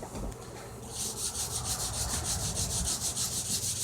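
Close, rhythmic rubbing of 320 grit sandpaper over the wooden body of a BC Rich Warlock guitar, quick even back-and-forth strokes after a brief scuffing start, no talking.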